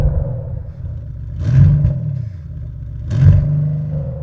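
A new hybrid car powering up with a low steady hum and two short louder swells, close by and fairly quiet, without any starter motor crank.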